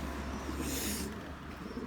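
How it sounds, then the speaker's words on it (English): Newly acquired racing pigeons coo softly and repeatedly in a loft, a low murmuring call close by, with no voices. "These are my brand new birds."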